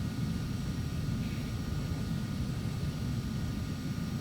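Airliner taxiing in the FSX flight simulator gives a steady, loud jet engine whine over a broad hiss, unchanging for a few seconds.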